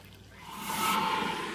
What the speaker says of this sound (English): So I got my water brewed. I'm going to pour that in.